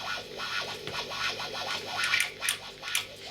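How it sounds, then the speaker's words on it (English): A guitar wah pedal gives off a breathy, sweeping hiss, rising and falling in repeated filtered swells, faint and heard alone with no talking. "That wonderful hiss that comes off a wah pedal."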